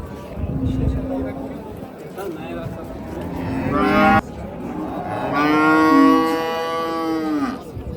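Cattle mooing at a busy livestock market, several drawn-out, loud moos close by, with people bargaining and talking in the background throughout.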